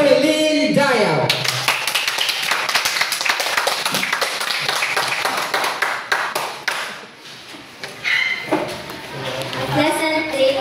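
An audience at a university campus symposium claps in a dense burst of many hands that gradually thins out, with voices mixed in, including a short vocal sound at the start and talk near the end.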